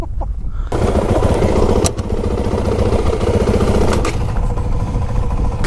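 Dirt bike engine running loud and close during a ride, a steady buzzing drone after a brief quiet start, with a couple of sharp bumps and shifts in pitch.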